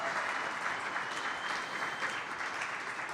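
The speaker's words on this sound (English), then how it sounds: "How about a big round of applause tonight for Rashan Gary" A studio audience claps steadily for Packers defensive lineman Rashan Gary at a live clubhouse show, a sustained, even burst of applause without voices.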